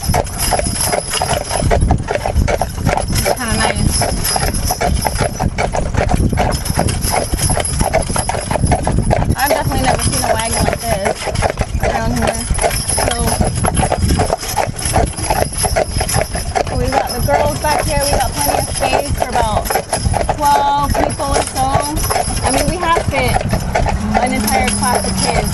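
Hooves of Percheron draft horses clip-clop steadily on the road as they pull a family wagon on a Sunday drive, a continuous loud rhythmic clatter throughout with wagon rattle, and people talking over it.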